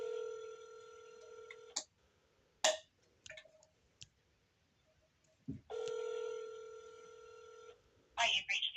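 A phone call placed on speaker rings out with a steady ringback tone that repeats twice, separated by a pause and sharp handling clicks, fairly quiet in a still room.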